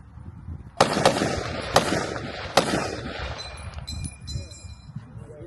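Three loud, sharp rifle shots fired at a Frontier Days demonstration at a Texas ranch, each followed by a short decay, then the en bloc clip ejecting from the rifle with a faint, ringing metallic ping.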